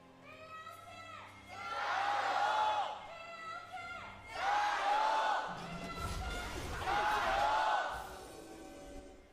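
Esports arena crowd before a BLG vs TES match, swelling in three rhythmic chanting waves of many voices, loud and roomy, with quieter crowd murmur between them.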